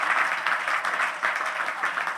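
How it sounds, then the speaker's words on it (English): An audience at a Martin Luther King Jr. Day public policy forum applauds Minnesota Attorney General Keith Ellison, with steady, moderately loud clapping that swells slightly in waves. "Let's give him a round of applause for all that he is doing."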